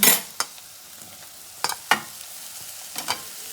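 Vegetables for veg haleem fry and get stirred in a pan, with a steady sizzle broken by several sharp scraping spatula strokes up close.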